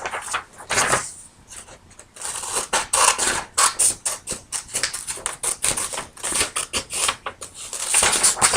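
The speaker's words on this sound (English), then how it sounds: "I'm going to cut out my communication signs" Scissors cutting paper communication signs, giving a series of close, crisp snipping and crunching strokes in irregular bursts, with no talk.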